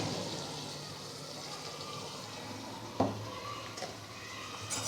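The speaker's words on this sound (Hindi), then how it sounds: "इसे मिक्स करेंगे पहले।" Chicken karahi masala with black pepper and salt being mixed in a pan, a soft continuous sizzling wash broken by one sharp clink of a utensil against the pan partway through.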